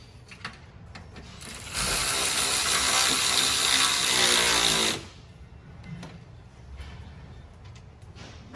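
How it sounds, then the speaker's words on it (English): A hand ratchet tightens RalliTek rock slider bolts on an 18+ Subaru Crosstrek. It gives a loud, fast run of ratcheting clicks lasting about three seconds, with quieter handling noise before and after. "So I'm going to move to these bolts there and we'll get those tight."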